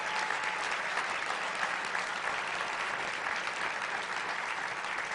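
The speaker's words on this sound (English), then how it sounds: "Give her a round of applause." Audience applause at a county State of the County address, a dense, steady wash of clapping from a large room that holds evenly throughout without talk over it.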